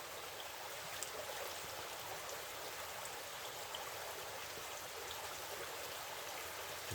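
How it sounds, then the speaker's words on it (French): Steady broadband wash of rain falling onto water in the mountains, a continuous hiss with faint scattered drop ticks, constant and fairly distant, no voices. "Je vois les gouttes à la montagne là-bas, donc ça tombe."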